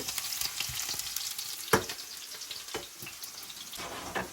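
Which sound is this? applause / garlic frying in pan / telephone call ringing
garlic frying in pan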